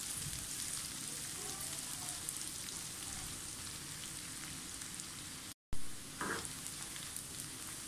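Green chillies fry in hot oil, giving a steady, close crackling sizzle throughout with a brief break near the end.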